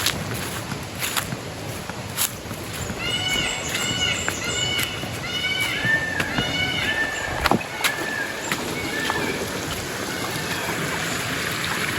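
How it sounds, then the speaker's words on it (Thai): A small waterfall stream flows steadily along a forest trail, a continuous watery rush with faint trickles, while birds chirp and occasional footsteps and brief voices sound nearby. "เป็นน้ำตกแบบเล็กๆนะ"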